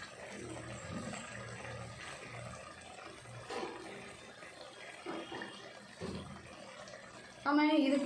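Water runs and pours into a pressure cooker while biryani is being made, a soft, uneven trickle and splash under people talking nearby, ending in a louder rush of pouring.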